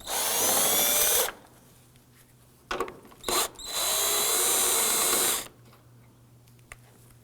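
A power tool working 10mm bolts on a 2008-2011 Ford Focus front end, two close bursts of whirring drill noise of a few seconds each, separated by short clicks and handling sounds.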